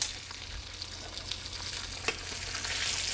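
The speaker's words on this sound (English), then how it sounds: "There's a lot of splatter when it comes to fresh oil. This is roasted garlic oil as well too." Chilean sea bass sears in hot, freshly poured roasted garlic oil with a steady, close, loud sizzle of spattering oil and a few sharper pops, and no voices.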